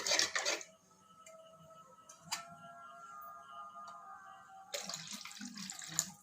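Water pours briefly into a cooking pot of gravy in a short splashing burst, then again after a pause, with faint clinking and quiet background hum in between.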